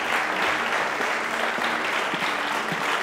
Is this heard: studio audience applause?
yes